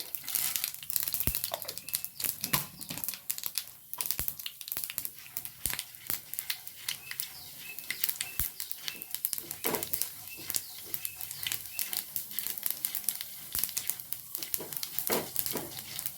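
Mustard seeds and urad dal spluttering in hot oil, a dense run of quick crackling pops and sizzles, fairly quiet and continuous with no talking.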